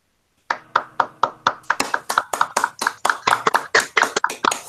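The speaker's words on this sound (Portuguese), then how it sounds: "Umas palmas virtuais." Virtual applause at the close of an academic colloquium: a lone pair of hands claps close to the mic, about twenty crisp claps in a quickening, steady rhythm, with no voices.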